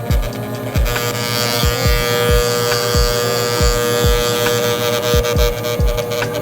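Electric hair clippers fitted with a half guard buzz steadily at close range while cutting hair, with short repeated strokes and light taps on the skin marking the rhythm.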